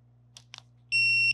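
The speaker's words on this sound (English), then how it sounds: "Just tap it once and you'll hear multiple beeps." A Critical Connect tattoo power supply gives two short electronic beeps, then a steady, louder high-pitched tone, all close and clear over a low hum.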